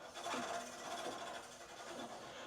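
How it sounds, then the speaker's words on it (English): Bicycle brake calipers on a new bike rub against the spinning front wheel, giving a steady, close scraping whir that runs continuously without pause. "adjusting the calipers so they aren't rubbing"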